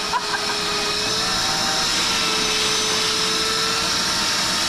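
A vacuum cleaner with a brush attachment cleans inside a vehicle where sofas are carried, giving a loud, steady, close droning whine that holds unbroken throughout without any talking.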